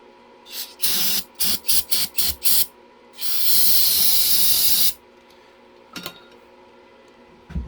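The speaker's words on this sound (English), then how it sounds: "Let me spray it off again." Several short hissing bursts of brake cleaner aerosol in quick succession, then one long steady spray onto a small-block Chevy 400 cylinder head, followed by a few faint clinks.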